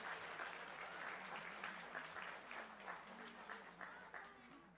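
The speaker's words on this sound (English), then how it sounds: "Can we have a round of applause for our 2nd grade award recipient?" Elementary school audience clapping for 2nd grade award recipients at a quarterly recognition ceremony, a steady round of applause that carries through with faint voices underneath.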